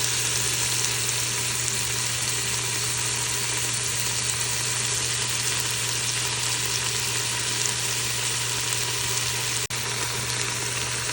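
Bone-in lamb pieces fry in a pot, giving a loud, steady sizzle with a constant low hum underneath and one sharp click near the end, with no talking.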